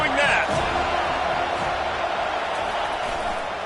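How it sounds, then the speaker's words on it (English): Football stadium crowd cheering, a broad, steady roar filling the space, loudest at the start and holding strong throughout, with a few shouts standing out over the wash. "They challenge this crowd to bring the energy, and I'd say they're doing that."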